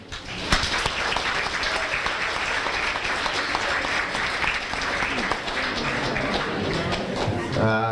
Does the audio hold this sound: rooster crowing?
no